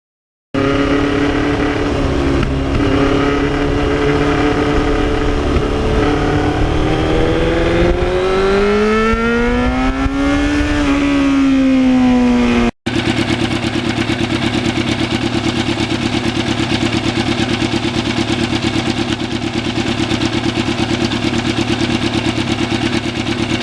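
1991 Yamaha FZR 1000 motorcycle with twin exhaust being ridden, engine rising and falling in pitch through gear changes under wind noise, then a steady cruising drone after a brief cut.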